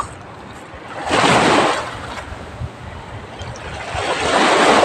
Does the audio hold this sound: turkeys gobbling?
no